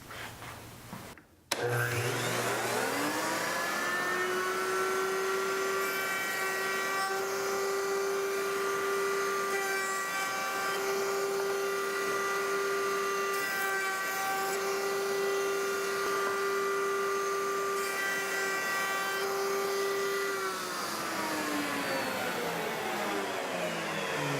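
A PantoRouter spins up and cuts a roundover into wood, a steady high motor whine with a bright routing tone held for about twenty seconds before winding down, close and loud.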